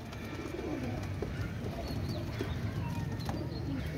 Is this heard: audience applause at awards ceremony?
no